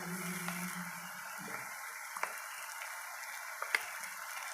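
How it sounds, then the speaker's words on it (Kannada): Ginger garlic paste frying in a pan for layered chicken biryani makes a soft, close sizzle, with occasional small ticks and scraping sounds from stirring. "ಈ ಟೈಮ್ನಲ್ಲಿ ನಾವು ಶುಂಠಿ ಬೆಳ್ಳುಳ್ಳಿ ಪೇಸ್ಟ್ ಹಾಕ್ತೀವಿ ರೀ"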